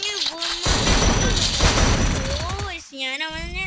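Rapid, loud gunfire bursts in the video game Free Fire fill most of the short span, with a person speaking over the shooting near the start and end.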